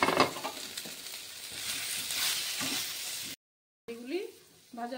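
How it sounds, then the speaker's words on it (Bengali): Marinated okra fries in hot oil with a close, steady sizzle and some stirring. The sound cuts out briefly, and a voice is heard near the end. "তাতে আমি আগে থেকে ম্যারিনেট করা ভেন্ডিগুলি দিয়ে দিচ্ছি। এগুলো হালকা করে ভেজে নেব।"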